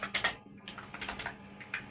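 Keys tapped on a computer keyboard to enter a Python command, a quick burst of light, close clicks with short irregular pauses and no talk.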